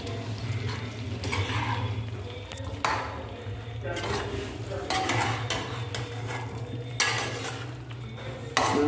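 Fried potatoes being stirred into dum aloo masala in a pan, with continuous scraping and shuffling over a low sizzling background and repeated stirring strokes throughout.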